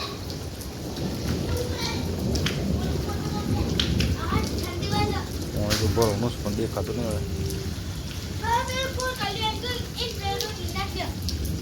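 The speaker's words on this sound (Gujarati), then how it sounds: "વીજળી તો પડે છે જો હવે આ સાઈડ વીજળી પડે છે કાટ ગાજે છે વરસાદ" Steady heavy rain pours down with low rumbling thunder, while people talk and children's voices rise over the downpour.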